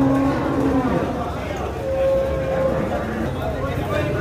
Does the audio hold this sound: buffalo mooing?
yes